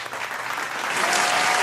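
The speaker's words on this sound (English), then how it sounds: "give a round of applause for our Arsenal rep today, TJ Warren TV." Live audience applause greets a guest on a football derby preview show, a brief dense burst of clapping that swells and holds loud throughout.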